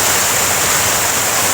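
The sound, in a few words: flowing water at Sam-angan, Busay, Cebu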